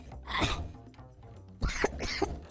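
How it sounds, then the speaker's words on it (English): Coughing fits from a person reacting badly while tasting kala chana chaat, two harsh bursts a second apart, then more rough coughs, close and fairly loud with no speech. "Adorable cough."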